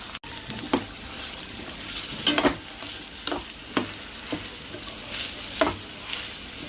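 Onions and green chillies fry in a pan with a continuous close sizzle, punctuated by a few sharp scraping stirs at irregular intervals, with no voices.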